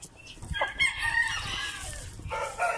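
A black Indio Gigantis rooster crows nearby, a loud drawn-out call rising and falling, with a few short clucks around it.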